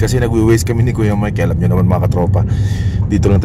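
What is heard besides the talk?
No everyday noise stands out behind the speech.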